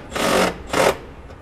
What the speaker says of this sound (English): I'm gonna tighten up the bottom bolt, and that will pull this straight and down as well.